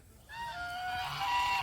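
A duck gives a run of nasal, honking quacks that start abruptly and carry on almost without a break for over a second, fairly close and with no voices.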